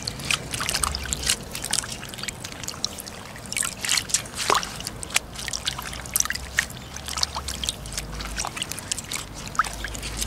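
Lettuce leaves soaking in a basin of water, giving continuous light trickling, dripping and splashing as the greens are handled, close and moderately loud with no talking.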